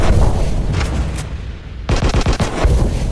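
Gunfire in the shooting game Anti Terrorist Squad Shooting: a dense rapid burst of loud, close shots after a brief lull, with no talking.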